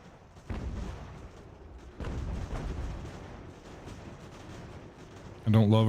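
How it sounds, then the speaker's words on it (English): Artillery fire in the video game Ultimate General: American Revolution: distant cannon booms roll out at intervals under a steady battle din, with someone talking over them. "I don't love artillery flying into my own boys."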